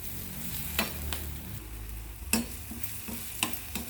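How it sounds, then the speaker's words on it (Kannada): Chili powder and spices fry in a pan for hotel-style dal fry, giving a soft steady sizzle broken by several sharp scraping strokes of a stirring spoon. "ಇದೆಲ್ಲ ಹಾಕಿ 1 ನಿಮಿಷ ಫ್ರೈ ಆಗಬೇಕು."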